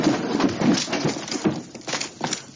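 A donkey's hooves clip-clop in a quick, uneven run of hard knocks, close and fairly loud, with no talking over them.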